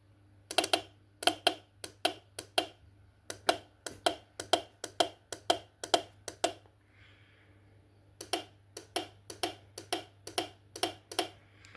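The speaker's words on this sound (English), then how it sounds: "We should hear the fuse box click now." Fuse box relay clicking as a trigger wire is touched to a 12-volt feed, sharp dry clicks arriving in quick irregular bursts with a pause mid-way, close and fairly quiet over a low steady hum.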